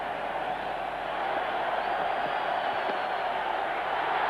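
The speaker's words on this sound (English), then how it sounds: "The crowd is delirious" A cricket stadium crowd in Ahmedabad roars steadily as India's total passes 300 in a one-day international against West Indies, a dense, continuous wall of cheering that swells slightly and holds.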